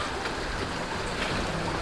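Stream water runs in a rainy-season channel right behind a house in Ambavali, Mandangad, giving a steady, close broadband rush that holds even throughout, with no voices over it.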